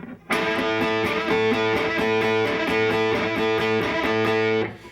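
A distorted electric guitar rips through a quick, repeating rock lick, loud and close, ringing out for several seconds before cutting off.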